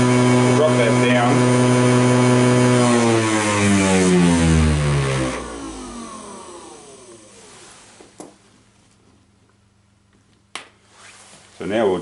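A Banggood DC motor on a speed controller winding down from a loud, high whine, pitch dropping steadily until it fades to near silence, followed by faint clicks and a brief voice at the end.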